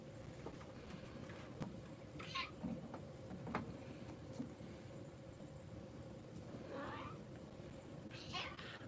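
Scarlet, a house cat, lets out several faint meows spread over a steady background hum and rumble, with people talking quietly in between.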